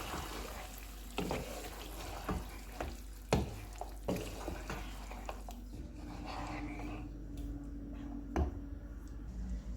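A spoon stirs whipped yogurt into fried beef in a pot for achari gosht, giving wet scraping and squelching with intermittent knocks against the pot over a steady background sizzle, close by.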